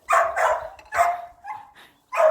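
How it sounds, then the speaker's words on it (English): A dog in a home garden barks loudly and close to the microphone in several sharp bursts, with brief pauses between them and one final bark at the end. "Excuse me for the dog."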